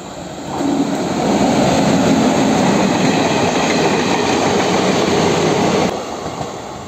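Train rolling through a railway station at night, a steady loud rumble of wheels and carriages rising quickly, holding for several seconds, then easing off.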